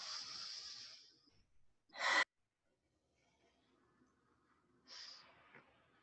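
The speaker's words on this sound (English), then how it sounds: "breathing in through your nose" Slow breathing in through the nose and out through the mouth while lying reclined, a soft airy exhale, then a sharp close inhale, quiet pause, and another gentle breath, heard alone at close range.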